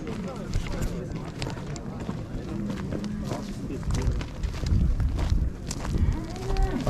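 Cattle at a busy livestock market moo repeatedly, some nearby and some farther off, among shuffling hooves and footsteps, while people talk throughout.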